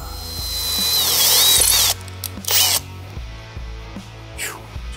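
A power drill bores through a stuck bolt on a Yamaha Raptor 660 ATV engine, loud whining and grinding for two seconds, then stuttering bursts with ratcheting mechanical clatter close by.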